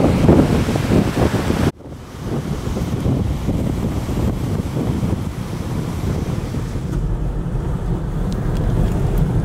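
Steady roar of surf and wind across an open beach where dunes meet the ocean, broken by a brief dropout near the start, then continuous rushing noise with no voices.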